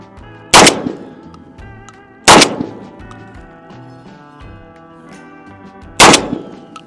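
Mossberg 990 shotgun firing number 4 shells: three loud sharp blasts spaced a couple of seconds apart, each followed by decaying ringing echoes and faint metallic clinks, close and without talk.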